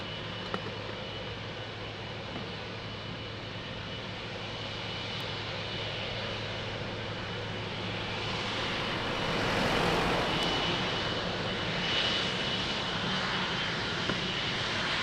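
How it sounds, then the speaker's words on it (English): Boeing 777 airliner at Lisbon Airport, its engines a broad steady roar that swells around the middle as it passes and then eases, heard at a distance with no voices. "And another big boy, 777."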